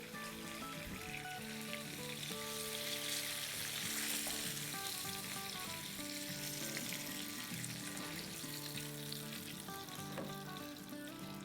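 Chicken steak, country-fried, sizzles steadily in a hot pan of oil, a loud continuous crackle with busy popping and bubbling throughout, no voices.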